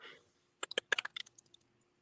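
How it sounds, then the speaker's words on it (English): Rapid keystrokes tapped on a computer keyboard during a video call, a quick irregular burst of about a dozen crisp clicks, fairly close and clear, after a brief murmur at the start. "Somebody was typing."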